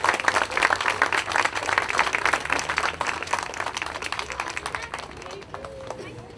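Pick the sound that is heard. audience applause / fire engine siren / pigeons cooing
audience applause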